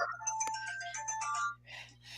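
A mobile phone ringtone plays a short electronic melody of bright tonal notes, fairly quiet and alone in a room, fading after a second and a half.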